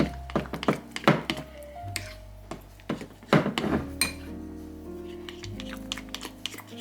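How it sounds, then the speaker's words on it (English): Hard spoon taps and scrapes clink against a bowl of melting chocolate chips in an irregular rhythm, close up, with a low steady hum underneath and no talking. "I'm just going to stir them until they melt."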